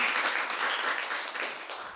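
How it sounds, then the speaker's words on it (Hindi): A class of students claps for a schoolmate, a dense, even burst of applause filling the room for a couple of seconds before tapering slightly. "इनके लिए फिर से एक बार ताली बजाइए"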